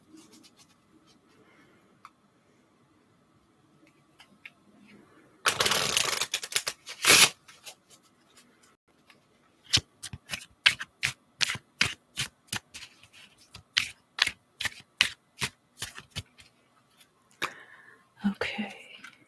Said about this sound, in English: Or rather, I'm shuffling the cards.